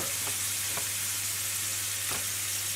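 An entrecote steak sizzles in a frying pan, a steady close hiss running throughout with a few faint clicks of stirring and no talk.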